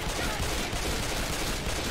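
Heavy gunfire from Left 4 Dead 2 keeps up as a dense, continuous rattle of shots with no break, loud and close.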